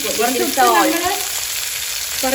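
Onions with a little salt frying in oil as the base for chicken curry, a continuous close sizzle with some stirring, and a voice briefly audible over it.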